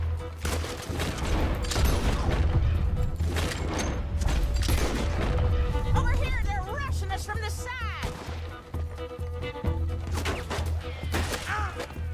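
Dense gunfire rattles through a Red Dead Redemption 2 shootout: a near-continuous fusillade of loud shots and impacts layered over rumbling game sound, with brief whistling effects midway.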